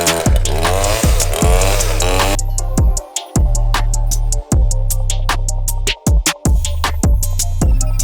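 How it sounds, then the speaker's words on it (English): A chainsaw cutting back a tree in a backyard, its engine revving hard in repeated bursts with short drops to idle between cuts, loud and close. "we're gonna get the chainsaw out and we're gonna start trimming some of that tree down"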